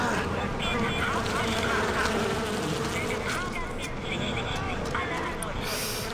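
A swarm of bees buzzes loudly and continuously in the video game Far Cry 4, a dense, close droning hum, with someone talking over it.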